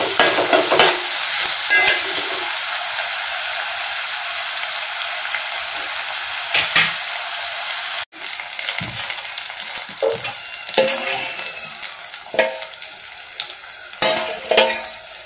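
Curry leaves fry with a steady, close sizzle in a pan while a utensil stirs them, scraping and clinking at intervals through the fifteen seconds, with a brief dropout near the middle; no one talks.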